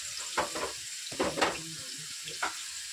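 Sliced onions fry in a hot pan for chicken curry, a soft close sizzle broken by a few brief bursts of crackling and stirring.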